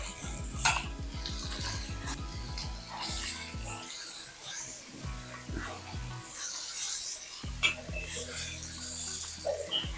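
Chicken sautés with onion and tomato in a pan for Chettinad chicken varuval. A spoon clatters and scrapes against the pan over a low sizzle, with a voice heard faintly at times.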